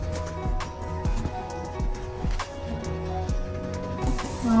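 A sewing machine stitches ball gown fabric in a steady mechanical whir with regular rhythmic pulses, running close and continuous without any voices.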